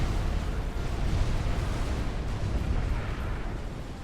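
Sustained deep rumbling explosion in Supreme Commander: Forged Alliance during a 4v4 match on Seton's Clutch, a dense, loud roar of blasts with no pause and no voices.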